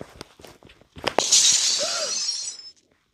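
Glass shatters in a horror video game: a sharp, bright crash that rings and tinkles for about a second before cutting to silence, preceded by a few quiet thuds.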